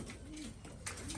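Domestic pigeons coo softly in a short, faint burst, a low warbling call rising over quiet background noise.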